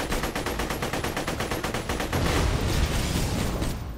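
Shotgun fire in the video game Borderlands 2: a fast, evenly spaced string of loud shots fills the first half, then gives way to a dense, roaring wash of blasts and debris with no voices.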